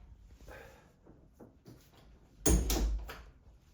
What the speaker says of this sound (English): Let's close the door.